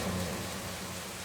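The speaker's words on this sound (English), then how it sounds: "Outside, the rain grew lighter" Light rain falls steadily outside, a soft, even patter of drops with no other sounds, low and close, continuing through the whole stretch.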